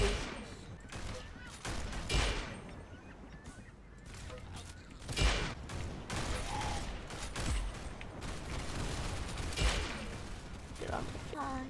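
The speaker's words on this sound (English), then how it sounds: "I'm shooting people in their faces." Gunfire in a Roblox shooter: quiet bursts of rapid shots and sharp cracks, repeating irregularly among other game sounds.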